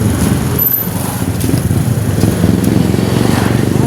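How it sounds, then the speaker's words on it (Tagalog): Motorcycles pass close by with a loud, continuous rattling engine drone that holds steady, with no talk over it. "May mga motor diri nga."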